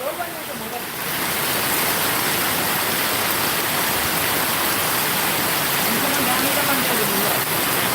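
Heavy rain pours steadily in Hyderabad, a dense continuous roar that swells after the first second and holds loud throughout, with water rushing alongside.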